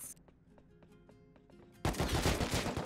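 Rapid bursts of gunfire in the survival game Rust, a string of sharp evenly spaced shots followed by a louder, denser barrage of automatic fire.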